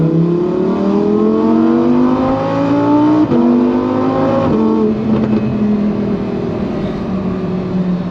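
A Lamborghini Huracán Performante Spyder engine accelerates loudly and close, its rising harmonic roar climbing through gears with two sharp shift breaks before settling into a steady high drone.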